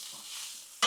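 Shrimp and sausage with butter being stirred on a Blackstone griddle: a soft steady sizzle for most of the moment, then one short, louder scraping stir near the end.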